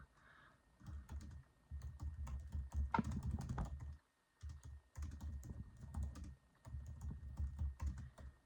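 Typing on a computer keyboard to jot down a note: quick, close key clicks come in bursts of several seconds with brief pauses between them, set against a quiet room.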